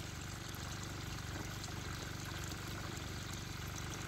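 Electric water pump rated around 4,500 litres an hour pushes water for irrigating a potato field, a faint, steady mechanical hum laced with continuous gushing, unbroken throughout.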